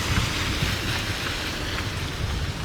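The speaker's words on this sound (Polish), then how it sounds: "Złapał nas tu piękny deszczyk. Przed chwilą lało mocniej, teraz już mniej" Steady rain falls on a street in Ho Chi Minh City, a dense continuous hiss of drops hitting surfaces with no pauses and no voices.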